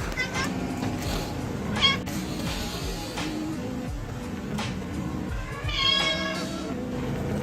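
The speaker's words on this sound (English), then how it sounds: "there's my cat" A pet cat meows a few times outdoors in the rain, its calls rising faintly over steady rainfall and low background noise.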